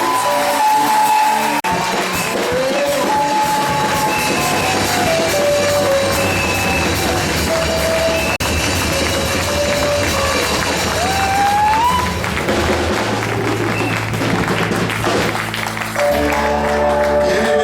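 A worship congregation cheers and applauds, a continuous wash of clapping and crowd noise blended with loud music playing throughout.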